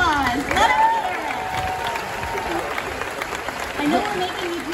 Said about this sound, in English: Let's give them another round of applause. Let them hear it.